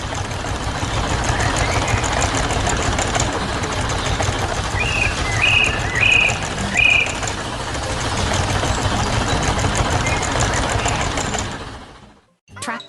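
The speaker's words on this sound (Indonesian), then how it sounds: "Lihat itu, traktor biru sedang bekerja di tengah ladang hijau." A blue tractor engine works in a green field in an animated cartoon, giving a loud, steady mechanical drone with a few brief high chirps partway through. It fades out abruptly at the end.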